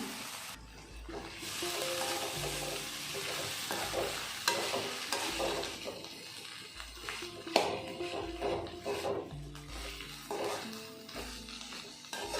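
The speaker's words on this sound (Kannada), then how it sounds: "ಈಗ ಇದು ಚೆನ್ನಾಗಿ ಫ್ರೈ ಆಗಿದೆ ಸೊಪ್ಪು ಹಾಕ್ಕೊತಾ ಇದ್ದೀನಿ" Greens and onion frying in a pan for village-style upsaru, a continuous sizzle punctuated by repeated rhythmic stirring scrapes and spatula knocks, close and steady.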